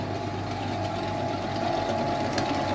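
An electric mixer beats cake batter with eggs and oil until white and foamy: a continuous close motor whine and whir holds steady from start to end, with no talk.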